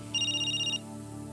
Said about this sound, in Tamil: Whose cell is ringing?